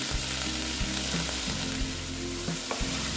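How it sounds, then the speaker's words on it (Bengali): Ginger and garlic paste fries in a hot pan for a pomfret curry, giving a steady close sizzle with a few soft stirring knocks and scrapes along the way. "আদা আর রসুনের পেস্ট। দিয়ে ভেজে নিচ্ছি।"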